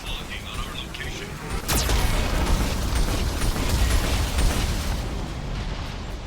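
A heavy Geth cannon boom erupts into a sustained rumbling roar in the video game Mass Effect 2, with a synthetic voice warning of the cannon locking on at the start.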